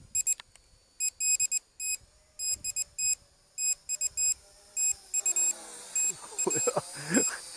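Rapid electronic beeps from an SJRC S20W drone returning home sound in repeated bursts, high and piercing, continuing throughout; a voice speaks and wind or motor noise rises toward the end.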